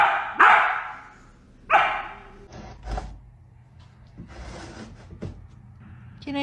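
A dog barking in a home, two loud close barks a second apart, then softer yips and small scuffling noises, with no talk.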